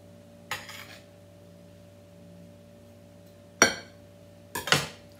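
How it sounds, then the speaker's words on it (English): Chopped scallions going into a salad bowl, heard as three brief, sharp clinks and scrapes of a utensil against the bowl, spaced apart over a quiet kitchen background hum. "Let's get these scallions in there."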